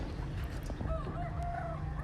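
Caged pet fowl kept as pets, with a rooster crowing in a couple of drawn-out calls amid soft clucking, close by over a steady low background hum.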